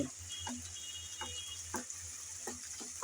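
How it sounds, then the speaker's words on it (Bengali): Dried ribbonfish shutki frying with onion and garlic in a pan, a soft continuous sizzle broken by light ticking clinks of a spatula stirring at an uneven rhythm. "তাই শুরুতে আমি পেঁয়াজ রসুনের সাথে ভেজে নিচ্ছি"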